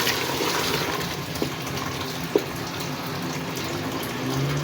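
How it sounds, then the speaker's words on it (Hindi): Water pours into a cooking pot of peas, a steady rushing gush close by that runs the whole time with a couple of small knocks, and no one speaks. "अब इसमें पानी डाल देते हैं ताकि जो मटर है वो भी गल जाए।"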